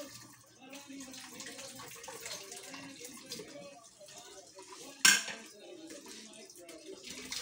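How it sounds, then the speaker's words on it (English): A spoon, saucer and bowl are scrubbed in a sink, with soft scraping, running water and light clinks of dishware, one sharp clatter midway, and voices talking quietly throughout. "scrub the spoon and platito and mangkok."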